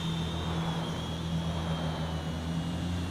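An Eachine E58 small drone flies, giving a steady whining motor drone with a constant high tonal hum over broadband rotor noise, close and unbroken, with no speech.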